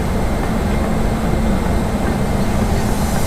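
A train locomotive at Howrah station gives off a steady, loud, continuous rumble mixed with broadband station and rail noise, unbroken for the whole stretch, with no clear voices.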